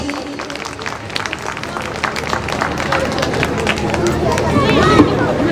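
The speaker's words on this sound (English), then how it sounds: "big round of applause, parents please." Parents applauding at a school annual function, a broad wash of many hands clapping under crowd babble and nearby voices, building slightly louder toward the end.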